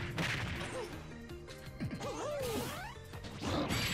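Bowser's down smash attack in Super Smash Bros. Ultimate lands with crashing game hits and effects, amid quick bursts of cartoonish sound effects and rising tones over a loud, busy mix.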